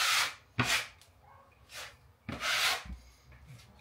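A blade scrapes excess drywall joint compound off a wall in a small office build, giving several separate rasping strokes of uneven length up close, with quiet pauses between them.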